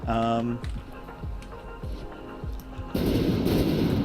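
Anti-aircraft guns on a destroyer in the game From the Depths fire a steady run of close, punchy reports at a regular beat, then a dense crackling burst of rapid fire, with people talking over it.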